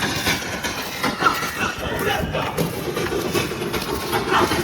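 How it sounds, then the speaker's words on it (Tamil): A train rolls past near a beach in Pondicherry, its steady rumbling rattle continuous and fairly loud throughout, with faint music in the background. "பார்த்தீங்கன்னா தெரியும், ட்ரெயின் போகுது."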